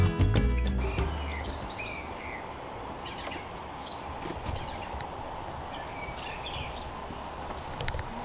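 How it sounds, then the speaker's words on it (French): Small birds chirp in brief scattered calls over a steady insect-like hum and low outdoor rumble in the Swiss countryside, mostly faint and somewhat distant. "il n'y a que le son des petits oiseaux et au loin une vache"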